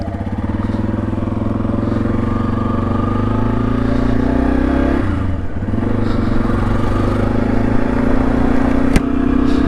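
A Yamaha XT250 dual sport motorcycle engine runs close and loud at a steady idle, with a brief dip and rise in revs midway and a sharp click near the end.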